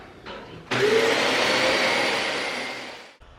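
A vacuum cleaner switches on with a loud, steady roar close by, runs for a few seconds, then cuts off.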